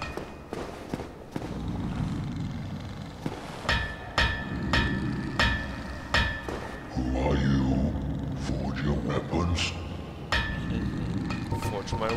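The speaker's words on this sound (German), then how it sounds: "Hört ihr das? Dieses vertraute Hämmern?" A giant blacksmith hammers metal at a forge in Dark Souls Remastered, sharp ringing strikes repeating irregularly at close range over game ambience, with someone talking over much of it.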